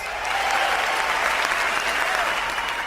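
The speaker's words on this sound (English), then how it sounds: "The crowd applauds with excitement." Dense, sustained clapping from a large crowd, loud and even throughout.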